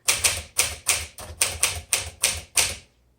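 Keys strike on a portable 1958 Smith Corona Sterling typewriter, giving about nine crisp, evenly spaced clacks in quick succession, close and alone, before stopping.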